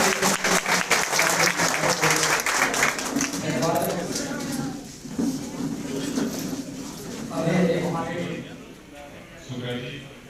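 Applause welcoming a speaker at a political rally, with a crowd clapping loudly at first, then fading under someone talking and rising again in waves.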